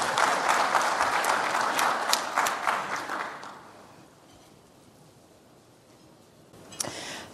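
Audience applause welcoming a speaker to a conference general session on retirement security, loud and dense for about three seconds before fading to quiet room tone, with a brief bump near the end.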